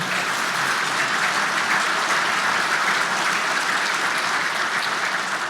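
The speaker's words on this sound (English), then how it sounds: "can we give a big round of applause to everybody in the staff for helping put that together?" An audience at a commercial real estate forum gives the event staff a big round of applause: dense, steady clapping that holds at full strength for the whole stretch, with no talking over it.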